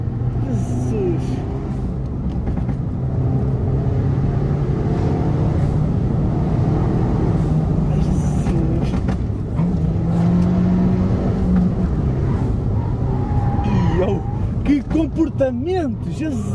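A 220 hp Abarth 595 Pista accelerates with a steady, droning engine note that rises and falls, while people chat over it inside the car.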